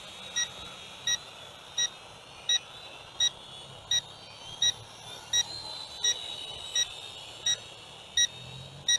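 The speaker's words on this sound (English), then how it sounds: "This is beeping for LVC" Short, high electronic beeps from a UDI U42W Petrel drone controller's low-battery warning repeat at a steady pace, about one per second, over a soft background hiss.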